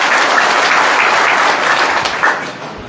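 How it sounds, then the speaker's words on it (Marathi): An audience at a public felicitation event claps loudly and steadily in dense, continuous applause, with no voices over it, then tapers slightly at the end. "त्यांच्यासाठी एकदा जोरदार टाळ्या वाजवा"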